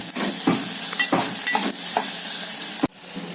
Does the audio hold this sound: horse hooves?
no